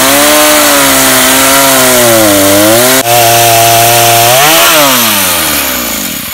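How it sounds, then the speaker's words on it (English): A chainsaw cuts through a log held in an improvised logging vise with a loud, steady, close-up roar, its engine pitch dipping and rising as the chain bites into the wood, with no talking. "now what I'm going to do is cut it with a chainsaw"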